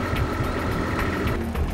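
A Palfinger Crayler FLG 140 truck-mounted forklift engine turning over and running, a close, steady low diesel rumble with a faint whine on top, without pause and with no talking.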